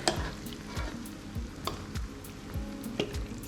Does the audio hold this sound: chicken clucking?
no